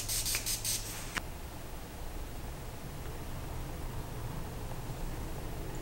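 Short bursts of a makeup setting spray hiss close up at the start, a rapid run of pumps ending within about a second, followed by quiet room tone.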